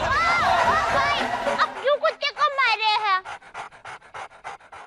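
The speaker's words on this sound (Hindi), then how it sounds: "अब क्यों कुत्ते को मारे हैं?" A dog pants quickly and loudly nearby in short rhythmic breaths, at first partly covered by voices and a whining tone, then heard almost alone.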